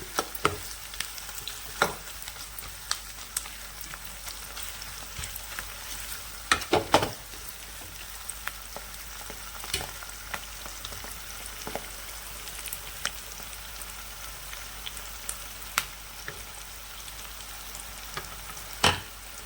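Garlic, cumin, curry leaves and dried chillies frying for an ivy gourd and dried coconut stir-fry, a low crackling sizzle dotted with spatters and a brief cluster of louder scrapes, with no one talking.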